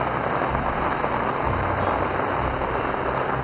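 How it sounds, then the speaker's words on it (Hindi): Heavy rain pours down steadily in a dense, even hiss during a downpour in Raigarh, close and loud with no pauses and no voices. "बादल गरजा और बारिश ऐसी जमकर बरसी के जल्द थल एक हो गया"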